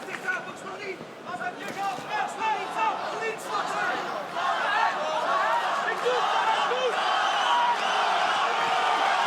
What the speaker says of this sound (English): The crowd trying to will Musadak on.